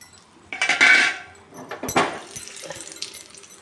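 Kalkandu pongal being stirred in a pot with ghee, cashews and raisins, giving a few loud metallic scrapes and clinks of a spoon against the vessel with quieter rustling between.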